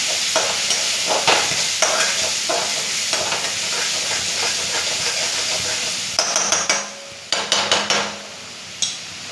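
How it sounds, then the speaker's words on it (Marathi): Pasta sauce with Schezwan chutney frying in a pan, a continuous close sizzle broken by repeated clanks and scrapes of a spoon stirring against the pan, with no one talking. "आता छानसं फ्राय होऊ द्यायचं आहे."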